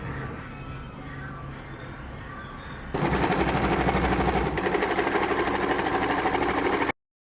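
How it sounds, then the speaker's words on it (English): A sewing machine stitches down the long sides of a tote bag body. Quieter handling comes first, then the machine starts abruptly with a loud, fast, even rattle of needle strokes that lasts about four seconds and stops sharply. "To create the bag's body, sew down the length on both sides."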